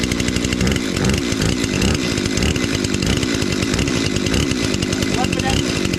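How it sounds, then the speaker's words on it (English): A running chainsaw roars loud and steady close by, its engine note rising and falling with throttle during a safety demonstration of starting and carrying technique. "Change the brake, chainsaw moving."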